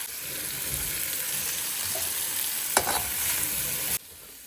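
Ingredients with salt, chili powder and coriander powder sauté in a pan with a steady close sizzle, a single sharp scrape of stirring midway, then the sound cuts off abruptly.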